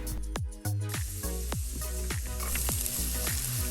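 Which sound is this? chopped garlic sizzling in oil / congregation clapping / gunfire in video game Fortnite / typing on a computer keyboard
chopped garlic sizzling in oil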